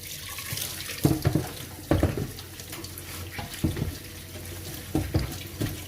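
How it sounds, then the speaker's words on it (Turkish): Steady running water from a tap over a sink while a clay casserole pot is quickly washed with a little detergent and rinsed, with intermittent clunks and splashes of the pot handled under the stream. "çok hızlı bir şekilde çok az deterjanla yıkıyorum ve hemen arılıyorum"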